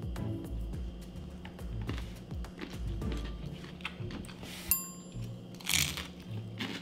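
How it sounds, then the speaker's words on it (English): Crunchy bites of chow mein piled on broccoli, a run of close crisp crunches and chewing in quick irregular rhythm, ending with a couple of brighter crackling sounds. "Ooh, that crunch."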